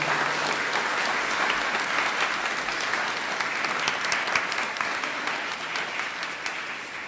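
Audience at a 2014 Educational Leadership Program commencement applauds Dina Farrelly, a steady, full wash of clapping that holds loud throughout and eases slightly toward the end.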